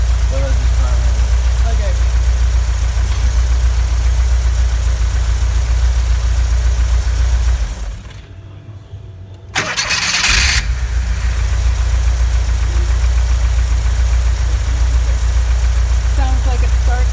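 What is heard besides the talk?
car engine starting and idling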